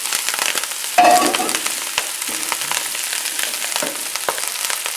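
About two quarts of kale cooks down in a hot pan, giving a crackling sizzle with scattered sharp pops and a louder clatter near the start, close and without speech.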